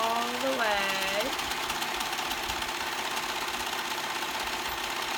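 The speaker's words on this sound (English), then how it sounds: "I'm gonna go ahead and serge that back line" Serger overlocking the back seam of a bell flounce sleeve, a steady fast mechanical whir running nearly the whole time at close range, with a brief voice near the start.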